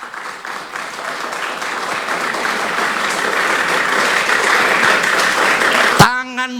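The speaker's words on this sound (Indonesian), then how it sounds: "Coba yang di balkon tepuk tangan." Worshippers in a church balcony clap their hands during a Sunday service, a loud, dense roar of applause that builds steadily for about six seconds, then stops abruptly as a voice begins to speak.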